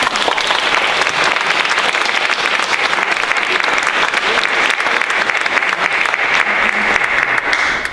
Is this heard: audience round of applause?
yes